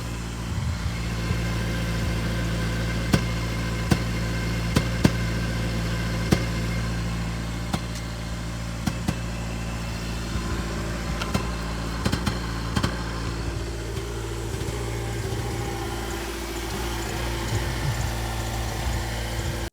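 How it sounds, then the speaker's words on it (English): Chevy Volt engine idling with a misfire, a low steady rumble with irregular faint knocks and stumbles, heard close at the roadside with no talk. "A misfiring engine and lots of unhappy codes."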